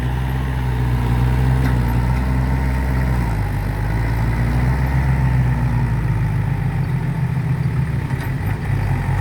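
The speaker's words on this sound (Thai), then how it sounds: "แล้วก็เอารถหกล้อ ใส่ดินหนักๆมามาดึง" A six-wheel truck loaded with heavy soil strains as it pulls a tractor out at an earthmoving site, its deep diesel engine droning steadily and loudly throughout, with the low rumble shifting pitch partway through as the load changes.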